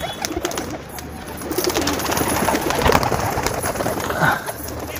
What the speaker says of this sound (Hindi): अभी देखिए दोस्तों कबूतर कैसे एक एक करके नीचे आते।